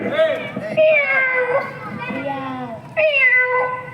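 Children's voices imitate a cat, drawing out several high wavering meows one after another, loud and close with little else around them.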